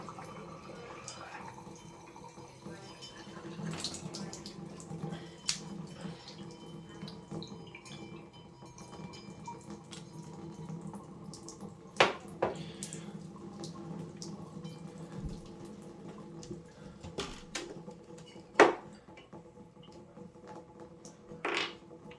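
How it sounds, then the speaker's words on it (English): Steady water rushing from an open shower valve during cartridge replacement, continuous and moderately loud, with occasional clanks and taps of handling on top. "Just a lot of water coming out of there."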